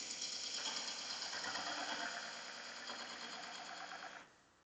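Wood lathe turning at about 500 RPM while the cutting tool peels away shavings, giving a steady, fairly loud whirring buzz that runs continuously and then drops off near the end.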